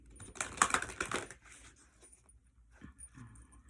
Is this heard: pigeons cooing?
no